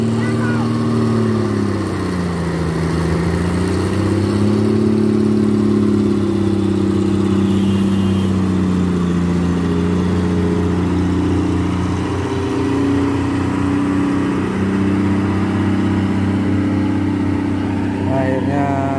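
An orange Fuso truck, loaded to about 26 tons, labours up a steep hill. Its diesel engine drones loud and steady throughout with shifting pitch as it revs, close and continuous.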